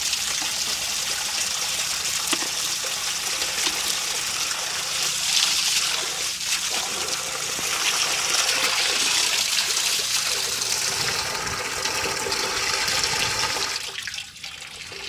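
Steady rushing water pours continuously, loud and close, with a gushing, flushing quality that persists throughout, as a frog nursery pond is flushed clean.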